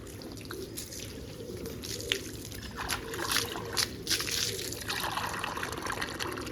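Water being poured, heard as a steady trickling, splashing stream with bright drips over a constant low background, fairly faint and without clear speech.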